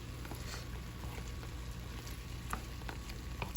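Carne asada seasoned with salt and pepper sizzles on a hot grill, a steady close hiss of frying with a few small pops and crackles and no talking.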